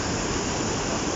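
Water rushes through Lydford Gorge on Dartmoor as a constant, loud, dense roar with no pauses, heard close by.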